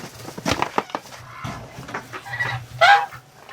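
Ducks in a snowy farm shed give a few scattered quacks and clucking calls, close and moderately loud, with rustling and thumps between them.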